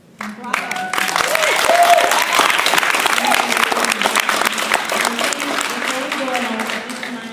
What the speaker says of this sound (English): I would please ask you if you would hold your applause